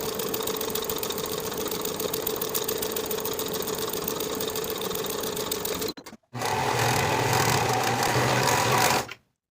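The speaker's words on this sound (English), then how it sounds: "Sew the center seam with a 3/8 inch seam allowance and finish the raw edges together," Sewing machine running steadily while stitching a center seam on a tee shirt with a 3/8 inch seam allowance, a continuous close whir for about six seconds, a brief stop, then a louder, faster burst of stitching.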